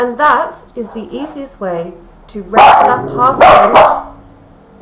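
Several sharp dog barks and yips ring out close by, interrupting a person talking; the barking grows louder and overlaps near the end.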